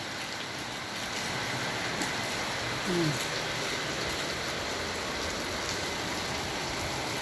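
Steady wash of heavy rain in Kuwait falling over a broad surface, dense and even throughout, with a brief murmured hum partway through.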